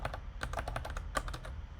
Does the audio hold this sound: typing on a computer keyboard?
yes